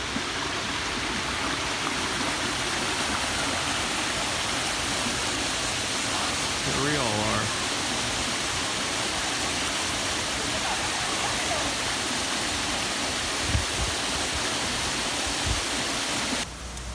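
Roaring waterfall at Nanzilinshan near Ruifang, heard as a steady, loud broadband rush of falling water, continuous throughout with a brief faint voice partway through.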